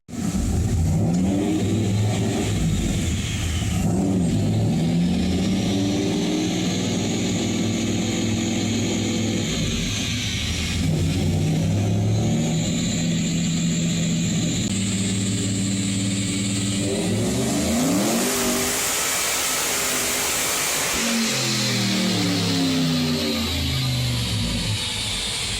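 A loud turbocharged LS-swapped Porsche 914 engine revs up on a dyno through repeated climbing pulls, dropping and rising again, with a whooshing burst near the end; no talking.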